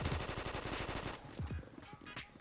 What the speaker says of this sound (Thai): อันนี้จะเป็นช่วงยิงจริงแล้วท่านผู้ชม